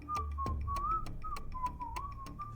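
A person whistles a wavering, tuneful melody in imitation of Yondu's whistle, a steady sliding tone carried over soft ticking clicks, with no talking.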